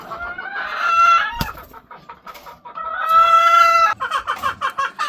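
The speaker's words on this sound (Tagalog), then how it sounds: "Magandang inahin." A breeding hen on a game farm clucks loudly up close, with drawn-out tonal calls and a run of short rhythmic clucks at the end.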